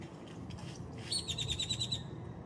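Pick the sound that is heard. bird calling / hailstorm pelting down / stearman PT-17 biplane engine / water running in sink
bird calling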